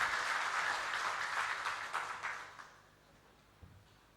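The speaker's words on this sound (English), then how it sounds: "Please give a big hand or applause him." Audience applause for a keynote speaker at a special lecture to a Dhammaduta Bhikkhus class, a burst of crowd clapping that swells briefly and then fades out, leaving quiet room tone with a soft bump.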